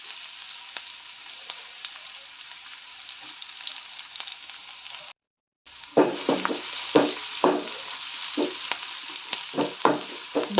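Onion frying in hot oil with cumin for an egg curry, a steady close sizzle throughout, broken by a brief pause, then louder crackling with repeated scraping stirs of the pan.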